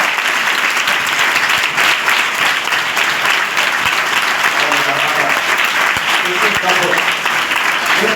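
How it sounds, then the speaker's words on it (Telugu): A church congregation applauds during a praise and prayer service, with loud, dense clapping that carries on steadily through the whole stretch. "గట్టిగా చప్పట్లు కొట్టి"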